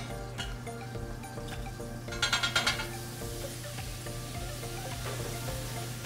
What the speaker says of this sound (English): There's your sizzling gambas